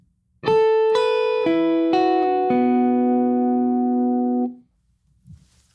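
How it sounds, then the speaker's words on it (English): Clean, dry electric guitar notes played one after another, each ringing clearly and stopping abruptly with no reverb tail, followed by quiet. "I'll show you how the line goes without the verb. You'll hear it's pretty dry."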